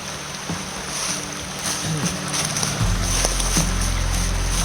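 Creek water flowing along the Hickerson Hollow Trail in Shenandoah, a steady, loud, broadband rush that stays constant throughout with no voices.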